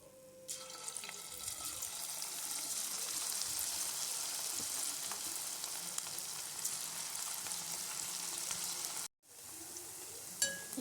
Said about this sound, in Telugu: ఇవి కూడా మంచి గోల్డెన్ బ్రౌన్ కలర్ వచ్చేంత వరకు వేయించేసుకోవాలి